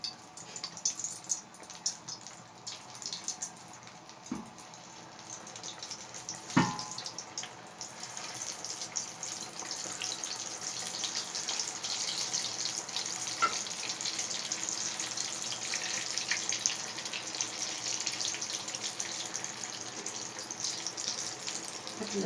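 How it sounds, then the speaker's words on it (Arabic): Potato kofta (balls of mashed potato) dropped into hot frying oil, giving a steady, bright sizzling hiss that builds and holds over most of the stretch, with a few soft knocks near the start. "ودلوقتي هنبدا ننزل في الزيت"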